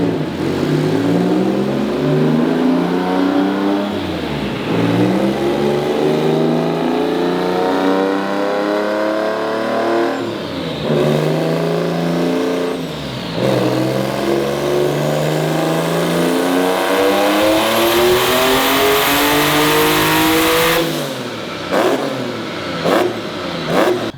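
Turbocharged EG33 flat-six in a Subaru WRX STI revving on a dyno, loud sustained pulls that climb steadily in pitch, three long runs broken by brief lifts, ending with sharp pops and chatter as the throttle closes.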